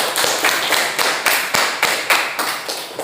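A small group in a classroom guidance session claps together in a loose, rhythmic pattern of close, sharp claps, with no talking.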